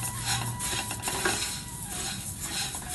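Coriander seeds being dry-roasted and stirred in a pan give a steady scraping, rustling rasp with faint sizzle and occasional spoon knocks on metal, continuous and close.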